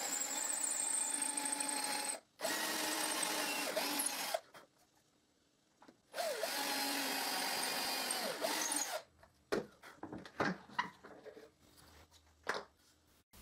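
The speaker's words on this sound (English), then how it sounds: "I drill a hole in the end of the hanger." A power drill whines through wooden hangers in two long bursts separated by a pause, followed by lighter clattering and handling noises.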